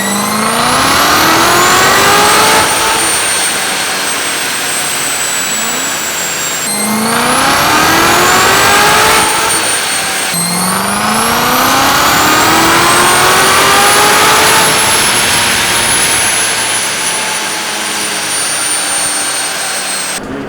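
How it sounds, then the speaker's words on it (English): A Nissan GT-R in RWB trim revving hard on a dyno at a supercar dyno day, loud and close, its engine roaring up through repeated rising pulls with no talking over it. "we'll see what the GTR can put down for decibels"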